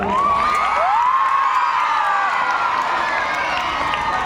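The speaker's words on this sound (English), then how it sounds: "Will you round of applause for everyone, students?" Students cheering and shouting together at a school general knowledge contest, a sustained loud crowd roar with high whoops rising above it, without clear claps.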